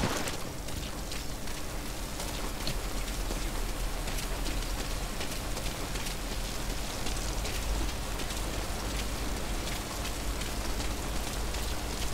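Steady, heavy rainfall in Metal Gear Solid V: Ground Zeroes hisses throughout, dense and unbroken, with faint patters of drops mixed in and no voices.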